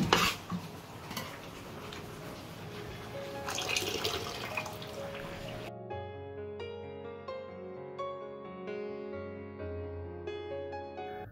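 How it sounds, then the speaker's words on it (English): Chopped potatoes are rinsed under a running kitchen tap during home cooking. A steady splash of water and faint clinks of a bowl last about five seconds before stopping, and soft background music continues alone afterward. "I like washing my potatoes again after I cut them or I chop them."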